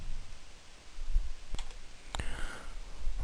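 A computer mouse clicks twice during construction site layout work, two sharp close clicks about half a second apart over a faint background hum.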